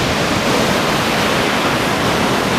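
Ocean waves breaking at Anglet beach on a morning surf check, a loud, steady wash of surf roaring continuously with no voices.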